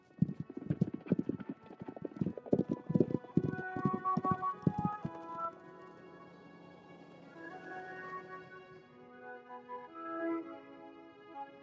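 Horses on a long-distance run give rapid, fairly close clip-clopping hoofbeats for about five seconds, followed by quieter tonal sounds as the hooves fade.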